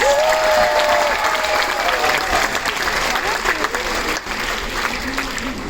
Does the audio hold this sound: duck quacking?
no